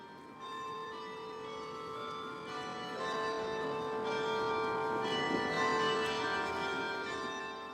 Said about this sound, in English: I hid throughout the song the sound of the church bells in Iceland